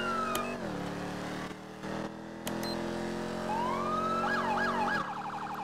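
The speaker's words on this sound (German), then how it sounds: "Und die verschiedenen Sirenen kannst du mit dem Knopf da drunter anmachen" Police car sirens in the video game Real Life Online switch on, wailing and shifting between tones over a steady engine hum, with a fast yelping pattern near the end.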